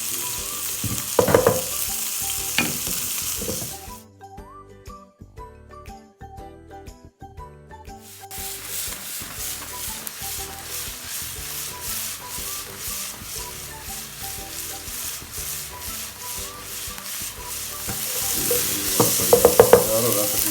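Onions, tomatoes, ginger and green chillies frying in a pan for dhaba-style daal mash, a steady close sizzle with repeated metallic scraping and clinking of stirring, briefly quieter midway before the crackle swells again.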